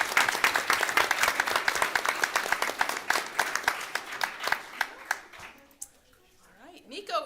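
School staff at a board of education meeting applaud a student, a burst of dense, close clapping with some cheering that thins out near the end into scattered claps, with voices talking.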